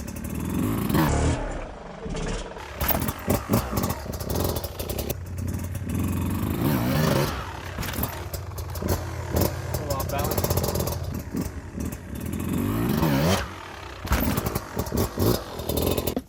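A Beta 200RR dirt bike engine revs and labours in bursts as the rider climbs up and over a slick log, with clutch-feathered surges and clatter, while someone talks over the engine noise.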